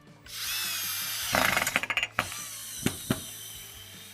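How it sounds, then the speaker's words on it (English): A power driver spins a screw into a wall, a whirring run followed by a burst of quick ratcheting clicks and two last short bursts, close and clear with no speech. "just screw it to the wall"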